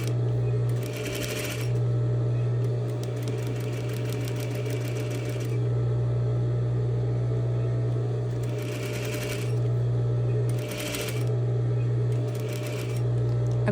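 A sewing machine stitching a seam with some backstitching, a steady mechanical hum that runs throughout, with short rattling bursts as the needle speeds up and slows between runs.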